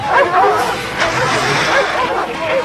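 Several hunting dogs chasing a jaguar bark and yelp excitedly close by, overlapping in a busy, continuous clamor.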